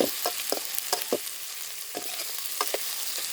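Fish curry base frying on a wood-fired stove, with a soft steady sizzle and intermittent scraping stirs at a close, quiet level, no voices.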